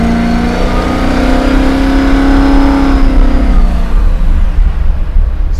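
A 750 hp supercharged Chevy Nova pro-touring muscle car accelerates on the road, its engine a loud, close, rising drone with supercharger whine that holds steady, then roughens toward the end.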